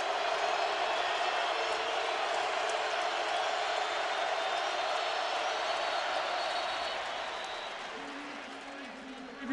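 A stadium crowd of 93,000 at a 2008 Alabama Crimson Tide vs LSU Tigers football game roars to urge the Tigers on. The cheering is a steady, dense wash that fades slightly near the end, with a commentator talking over it.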